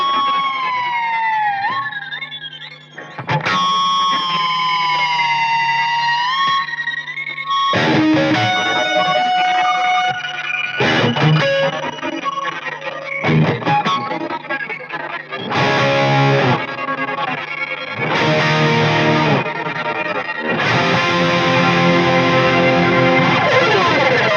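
Electric guitar run through a Mooer Ocean Machine dual delay and reverb pedal on its crystal setting, shimmering sustained chords and bending lead lines washing in long echoing tails, loud and continuous with no talking.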